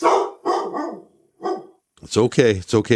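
A dog barks in several loud, close bursts with short pauses between them, and then a person speaks soothingly.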